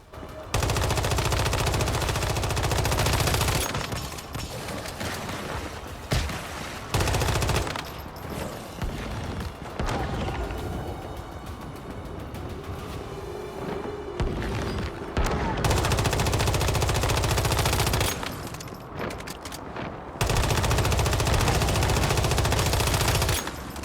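Boss fight in Once Human, a video game, in the Black Sector dungeon: long bursts of loud rapid automatic gunfire, with brief pauses and a quieter middle stretch of scattered shots and effects.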